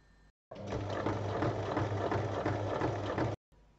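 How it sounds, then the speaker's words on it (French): A sewing machine stitches two fabric strips together along their full length in one steady, close run of about three seconds, with quiet before and after. "On commence par assembler les 2 bandes de 32 cm endroit contre endroit sur toute la longueur."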